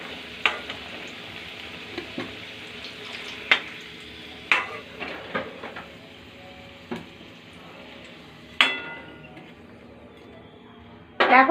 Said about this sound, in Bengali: দেখুন লাল লাল করে আলুটা ভাজা হয়ে গিয়েছে।